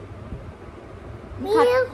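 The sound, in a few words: child imitating a cat's meow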